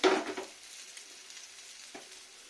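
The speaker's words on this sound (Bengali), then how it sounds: "দেখুন আজকে আবার ভাজছি খসলা ভাজা মানে খসলা করা" Khosla bora fritters fry in oil with a soft, steady sizzle, louder at first after a brief stir and then settling into a faint, even hiss. No one speaks.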